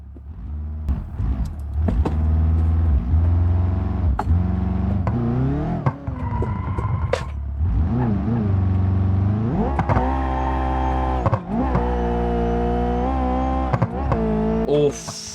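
A drag car's engine in BeamNG.drive revs hard and repeatedly, its pitch climbing and dropping in loud surges with brief lifts between pulls, steady and unaccompanied by talk.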